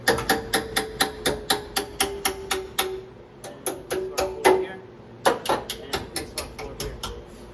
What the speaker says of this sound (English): Let me tap on a piece of our floor here.